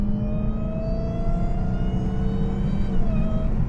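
A Dodge Hellcat fitted with a Legmaker intake cruises with a loud, steady engine drone overlaid by thin whining tones that slowly rise and fall, heard from inside the car.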